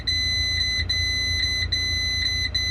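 Warning beep from a Renault Twingo at idle, sounding while the left indicator is on: a steady high electronic tone repeating in regular pulses, close and loud above a low engine hum, with no speech.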